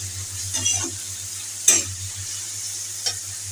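Bitter gourd (karela) fries in a pan with green chillies and a paste, a soft steady sizzle with a few scraping stirs and one sharp metallic clink, close by and without speech.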